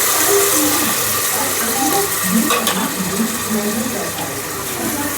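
Chicken cooking water being poured into biryani in a home kitchen, a steady watery pouring and splashing that runs through the whole stretch with faint clinks, while a voice speaks over it.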